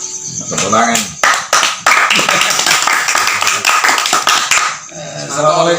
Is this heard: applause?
yes